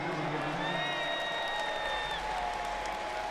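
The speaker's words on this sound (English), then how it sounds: "The round of applause here is for Eli Holstein" Stadium crowd at a Youngstown State vs Pittsburgh college football game applauding, a dense, steady roar of clapping and cheering filling the whole clip, with a faint whistle-like tone above it.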